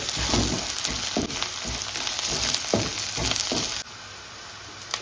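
Spices and ginger fry for tempering in a hot pan, giving a loud, steady sizzle with crackles and stirring scrapes that drops slightly near the end.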